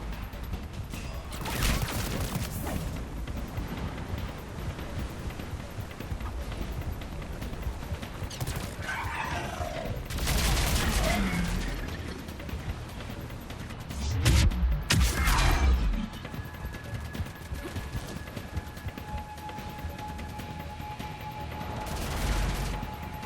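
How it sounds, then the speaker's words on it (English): Gunfire crackles through a Mass Effect 3 combat scene, sustained bursts and volleys rising and falling over a dense rumbling background, with heavier blasts around the middle. "Commander, I've got enemy contact. Under fire."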